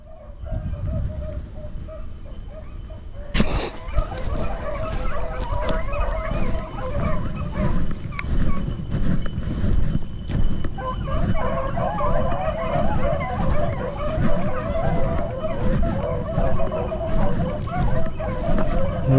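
Beagle hounds on a hunt bark and bay in a busy, overlapping chorus, some yips and howls nearby and others farther off, while people talk and shout intermittently over them.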